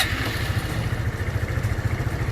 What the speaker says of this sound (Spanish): A encender la motocicleta.